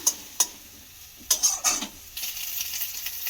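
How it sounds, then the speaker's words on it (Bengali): Egg being fried and scrambled in a pan for dim bhujia: a few sharp spatula clicks and scrapes against the pan over a low sizzle, then the frying hiss swells and continues steadily. "ডিমটাকে একদম ভালো করে ভেজে নিয়েছি"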